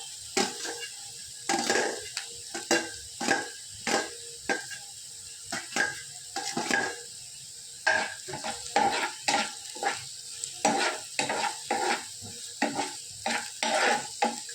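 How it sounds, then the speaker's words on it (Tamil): Green chillies and carrots sautéing in oil, a constant sizzle punctuated by a steady run of scraping, clinking spatula strokes against the pan, close and loud, with no voices. "நல்லா வதக்கணும் எண்ணெயிலேயே"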